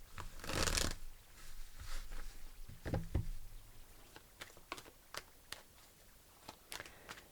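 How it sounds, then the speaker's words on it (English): Tarot cards are shuffled by hand close up, with a soft riffling burst followed by a scatter of quiet, irregular snaps and taps as the deck is handled, fairly faint overall. "I'm going to shuffle one more time."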